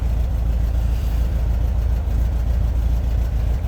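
An air-cooled VW 1776 cc engine with dual Dellorto carburetors runs steadily on its first start in six months, a loud, even low rumble with a fast uniform pulse and no voices.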